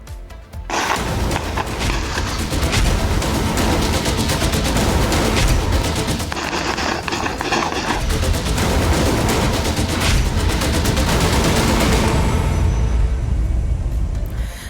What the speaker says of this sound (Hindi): बिहार गोलियों की आवाज से थरथरा रहा है